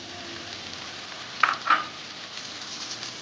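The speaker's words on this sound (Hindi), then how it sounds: "हस्बे ज़रूरत ऑयल डालने के बाद इसमें एक बड़ा प्याज वो ऐड करें" Chopped onion and tomato sizzling in hot oil in a pan for a bitter gourd (karela) curry, a steady close frying hiss with two brief louder spatters midway.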